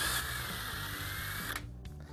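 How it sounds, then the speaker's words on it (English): A power drill bores a perpendicular hole through wood held square in a corner jig, a steady loud whine lasting about a second and a half before cutting off abruptly. "And you just drill your hole."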